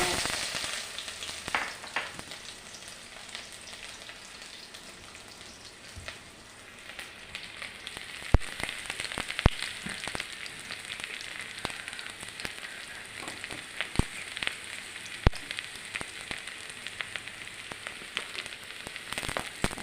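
Onions frying in hot oil in a home kitchen pan, a continuous crackling sizzle with scattered sharp pops and spatters that grow busier partway through, close by and with no voices.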